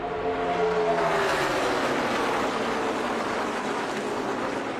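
NASCAR Cup Series race cars at the Homestead championship race roar past in a dense, loud, continuous engine drone with a brief rising pitch as the pack passes, with no talk over it.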